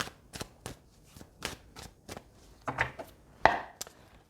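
Tarot cards being shuffled for a reading, heard as a series of separate soft, sharp slaps and taps at an uneven pace, close by and quiet, with no talking.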